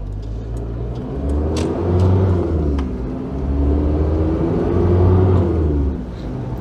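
A 1995 Ford Maverick 2.7 turbodiesel four-cylinder engine revs up under acceleration on the road, a loud low rumbling drone that rises and falls in pitch twice with cabin noise around it.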